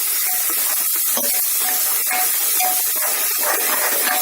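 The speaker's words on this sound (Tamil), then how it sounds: "லைட்டா ஸ்மெல் போற வரைக்கும் வதக்குவோம்." A ground paste of ginger, garlic, onion, mint and coriander sautéing in a hot pan for veg biryani, a continuous close hissing sizzle with small crackling spurts scattered through it, no voices.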